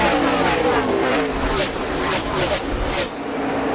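Monster Energy Cup Series stock cars race on track, including the No. 18 and Chase Elliott's car, a loud continuous engine roar with surging passes that drops off near the end, under a commentator's voice.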